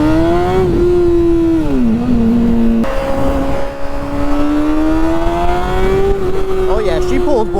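A Honda CBR 600RR motorcycle accelerates onto a highway, engine pitch climbing through several gear changes with a loud, close, buzzing whine and heavy wind rumble.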